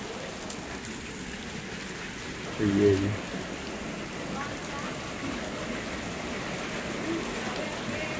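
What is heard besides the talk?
very heavy rain in an Indonesian village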